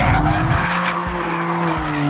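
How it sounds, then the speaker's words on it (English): A BMW M4 slides with traction control fully off, its tires skidding in a continuous loud squeal over steady engine roar on a race track, close and sustained with no talk. "if you do turn it off completely like this, you just sit back and enjoy the slide"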